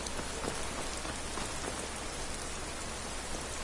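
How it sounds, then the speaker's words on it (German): Steady rain falls in the video game Skyrim, a constant soft hiss of drops on surfaces, even and unbroken throughout, quiet and with no voices. "Es regnet immer, man sieht den Regen nicht."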